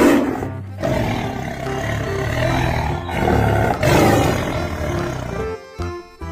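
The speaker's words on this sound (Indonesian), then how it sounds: "Ada harimau Sumatera, teman-teman." A Sumatran tiger roars loudly and close up, a sustained, rumbling roar with brief pauses and a final burst, heard alone without talk.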